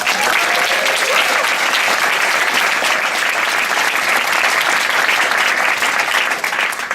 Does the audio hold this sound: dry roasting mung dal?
no